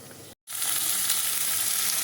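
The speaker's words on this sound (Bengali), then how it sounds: "ফ্লেমটা একদম কমিয়ে দিলাম যে চ্যাক করে একটা শব্দ হচ্ছে" Pork curry sizzles in a pan over a lowered flame as its liquid cooks down, a steady close hiss that starts after a brief silent gap.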